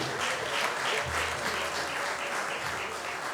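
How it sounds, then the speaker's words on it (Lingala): Audience applause at a Congolese community independence anniversary celebration in Germany, steady clapping from a crowd filling the room throughout, with faint voices underneath. "Merci beaucoup sous vos acclamations"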